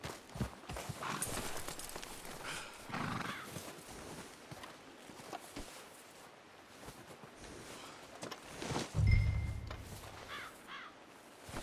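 Outdoors, a horse's hooves clip-clop in irregular steps at moderate distance, with a brief neigh and scattered rustling movement, a louder snort or thump standing out near the end.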